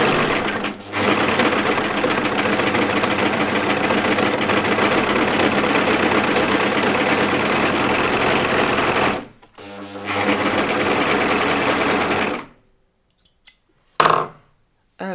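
An S0555 overlocker serger sews a sweatshirt seam in long, loud continuous runs with a short pause partway through, then stops, followed by a few brief clicks.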